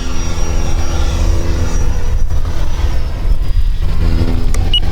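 Freewing Eurofighter Typhoon 90mm RC jet in flight, a loud, continuous whooshing roar of the ducted fan with a thin high whine running through it, steady and sustained throughout.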